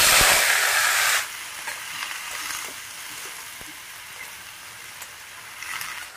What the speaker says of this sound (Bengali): শুকনো লঙ্কাটা ফোড়ন দিয়ে দিলাম, কালো জিরা ফোড়ন দিয়ে দিলাম, সবজিটা এখন দিয়ে দিলাম।